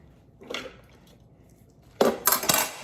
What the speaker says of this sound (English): we're going to toss our garlic in